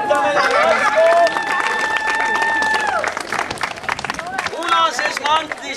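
Crowd applause at an outdoor Mother's Day pram rally in Aruküla, Estonia, with steady clapping throughout, voices, and a whistle-like tone and chatter riding over it.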